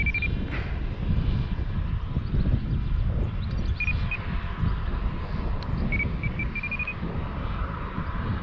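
A ZOHD Dart XL FPV wing climbs under motor power, its electric motor giving a thin, intermittent high whine over heavy, constant wind rumble at the microphone.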